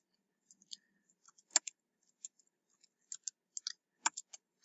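Number keys pressed on a TI graphing calculator, a dozen or so crisp, faint plastic clicks at close range, arriving in small uneven clusters over a few seconds, with no speech.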